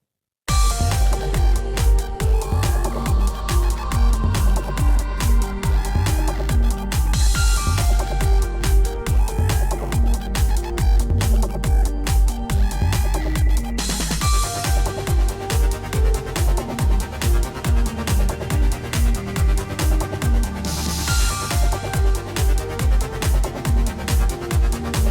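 A loud electronic music chorus plays alone, with punchy steady kick drums, a rhythmically chopped gated synth and layered sustained chords, the arrangement filling out further after the midpoint.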